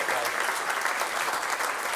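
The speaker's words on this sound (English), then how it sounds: "Big round of applause." A crowd applauds at the close of a live public talk on clouds and climate, dense and sustained clapping from many people, loud and even with no break.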